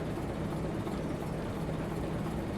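A diesel locomotive engine in the Railroader video game runs steadily, a close, even low rumble with a humming tone that holds without a break.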